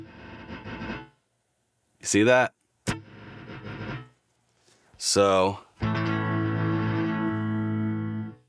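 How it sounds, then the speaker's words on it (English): Guitar played through a Line 6 HX Stomp nonlinear reverb with compression on, loud sustained chords and sharp bursts that cut off abruptly, a voice speaking briefly between phrases. "This is the nonlinear reverb"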